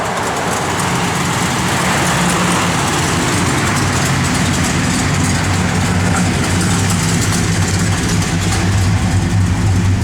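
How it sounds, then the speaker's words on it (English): A 1968 Dodge Coronet R/T with an upgraded cam idles steadily with a deep, lumpy exhaust rumble that crackles and burbles continuously, close by. "Nice little cackle back here."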